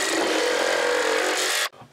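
A jigsaw fitted with an extreme dado-style blade rips lengthwise through wood, giving a loud, close, steady rasping buzz that runs continuously and then cuts off abruptly near the end.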